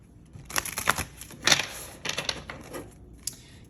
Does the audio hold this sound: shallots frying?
no